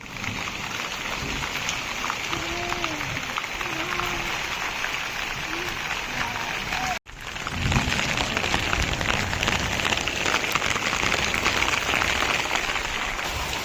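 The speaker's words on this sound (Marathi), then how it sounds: "आणि आता पावसाचा जोर वाढलेला आहे" Heavy rain pours steadily into a courtyard, a dense, loud, continuous hiss that briefly cuts out midway and then returns slightly stronger, with faint birdlike chirps early on.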